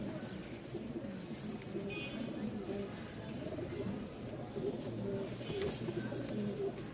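Several Giribaz pigeons on a farm in Mirpur coo in low, throaty, repeated calls close by, overlapping continuously with faint chirps from other birds in the background.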